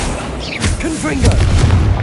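The Confringo blasting spell goes off in Hogwarts Legacy with a deep booming explosion and a rumbling tail, while a voice talks over it.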